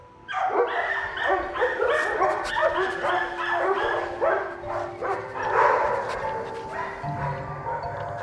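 Several dogs at an animal shelter bark in a dense, continuous chorus, loud and close, mixed with yips and whimpers.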